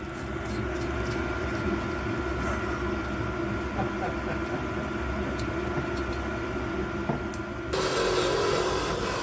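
Bench wire wheel whirring steadily as David Brown tractor cylinder head bolts are cleaned against it, a loud continuous grinding hum that shifts to a harsher brushing tone near the end.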